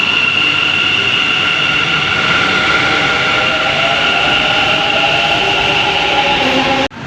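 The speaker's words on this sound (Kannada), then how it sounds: "ಫೈನಲಿ ಇವಾಗ ಮೆಟ್ರೋ ಬಂದಿದ್ದೀನಿ, ಹೋಗ್ಬೇಕು ಯಶವಂತಪುರ್." A Bangalore metro train rolls along with a loud, steady rumble and a sustained high whine, close by and unbroken until it cuts off abruptly at the end.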